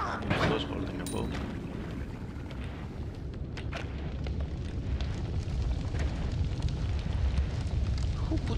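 A bomb explodes and fire spreads in the video game Noita, making a continuous loud roaring crackle that follows an initial burst and keeps a steady rumbling texture throughout.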